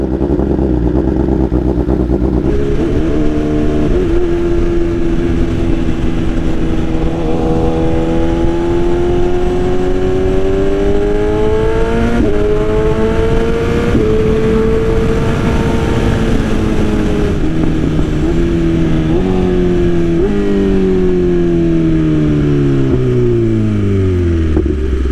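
Motorcycle engine revving loudly and steadily up and down through successive downshifts, pitch rising and falling over about 25 seconds, close and alone with no talk.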